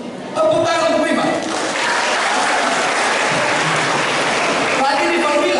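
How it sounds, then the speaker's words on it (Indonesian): A crowd applauds a student named Riva at a school thanksgiving Mass, with steady, loud clapping throughout and a speaker's voice over its start and end. "Iya, tepuk tangan untuk Riva."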